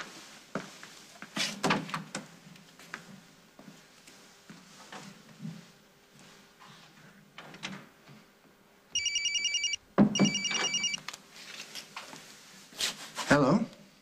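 A cell phone rings in two short electronic bursts midway through, each clearly separated and close by, with people talking around it and doors or drawers moving.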